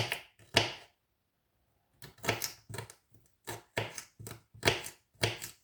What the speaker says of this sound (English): So just chop the last few bits.